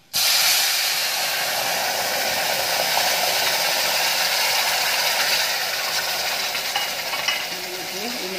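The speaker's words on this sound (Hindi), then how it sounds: "इमली का घोल छोड़ दिया, हम बना रहे इमली की चटनी" Tamarind water poured into a hot cumin tempering sizzles loudly the instant it hits the pan, then hisses steadily with crackling bubbles for several seconds, close and alone.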